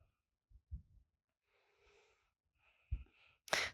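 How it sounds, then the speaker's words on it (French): Slow deep breaths during a yoga pigeon pose, faint and close, with a few soft inhales and exhales separated by quiet gaps and a sharper breath at the end. "Prenez de longues respirations là."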